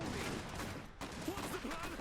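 Bursts of gunfire in the real-time strategy game Iron Harvest, rapid distant volleys of shots under game voice callouts.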